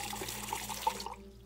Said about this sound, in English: Truda, would you pour me one of your Pilsner beers, please?